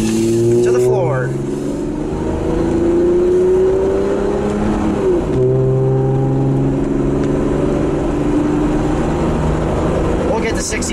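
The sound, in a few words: 1997 Toyota Land Cruiser FJ80 accelerating at full throttle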